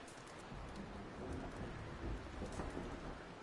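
Thunderstorm with steady heavy rain in Red Dead Redemption 2, a dense continuous downpour with low rumbling thunder rolling underneath, heard alone without voices.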